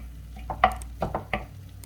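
A spoon scrapes and clinks through chicken filling with added eggs in a pan for brick pastries, a few short stirring strokes over faint background hiss.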